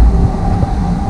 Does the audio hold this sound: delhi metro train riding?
yes